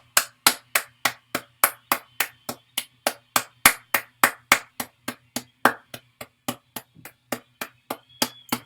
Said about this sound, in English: More cheering for the boobies!